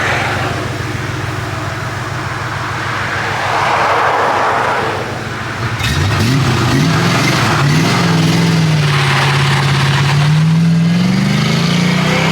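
A stick-shift-swapped Ford LTD Crown Victoria pulls away with a loud, close engine note. After a brief dip, the revs climb and fall through the gears in a sweeping, strained drone, with no voices over it.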